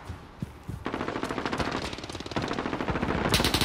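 Rapid automatic gunfire from Call of Duty: Modern Warfare in a kill confirmed match, dense bursts of machine-gun fire building louder across the clip with sharp close shots near the end.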